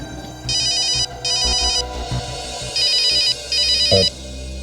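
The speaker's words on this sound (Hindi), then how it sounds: "डॉक्टर तारिका, अरे मैं आपके ही फोन का वेट कर रहा था" A telephone rings in a Hindi crime drama scene, four loud electronic ring bursts in a regular double pattern, close and clear with no talking over them.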